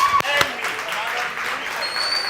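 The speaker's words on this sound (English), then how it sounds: "So I'm going to ask you guys to give a round of applause for our Changemakers and Glenn." Livestream audience at a youth tech and innovation event applauds in a steady, dense wash of clapping that lasts throughout, with a couple of sharper claps near the start and a faint tonal note toward the end.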